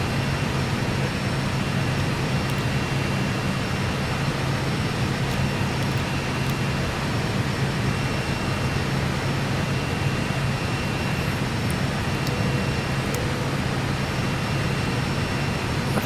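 Fokker F28 jet engines throttled back in Microsoft Flight Simulator, a steady broadband roar with a faint high whine, unbroken and even in level for the whole stretch, with no talking.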